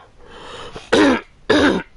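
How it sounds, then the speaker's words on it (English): Two loud, harsh coughs close to the listener, about half a second apart, with quiet room noise in between. "I keep coughing so much"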